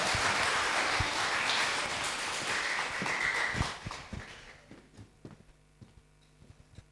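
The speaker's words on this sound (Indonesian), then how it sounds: "Boleh tepuk tangan dulu teman-teman untuk Bunda." An audience at a talk event claps in a dense, loud burst of applause that thins out after about four seconds, leaving a few scattered claps and knocks.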